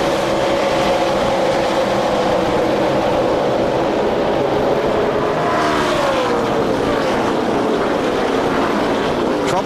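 NASCAR Cup stock cars take the green flag at Kansas Speedway before 80,000 fans, a loud continuous roar of many engines, pitches sweeping as the pack passes, with commentary running over it.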